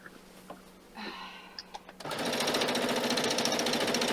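A domestic sewing machine starts up after a moment of quiet clicks and handling, then runs steadily with a fast, even mechanical chatter, close and fairly loud, with no talk over it.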